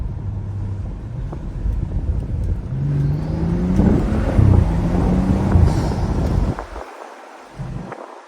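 A BMW N55 turbocharged engine in a rear-wheel-drive car, heard from inside while driving: a loud, rumbling intake drone climbs in pitch under acceleration, then cuts off abruptly near the end as the throttle lifts.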